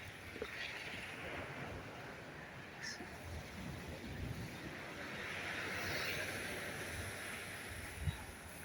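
Slightly rough sea waves washing steadily at a distance along a shore below a rocky mountain, a constant broad rush with gentle swells and some wind noise, no voices.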